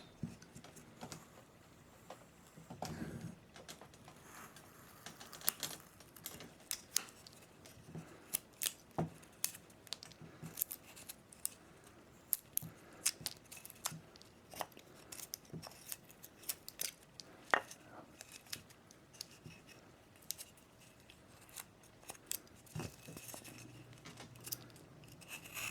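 A knife carves a small wooden female figure, cleaning out detail under the brim of the hat: quiet, close scraping and sharp clicking cuts in an irregular rhythm, with occasional louder snaps and no talking.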